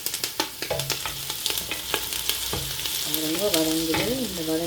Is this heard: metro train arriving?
no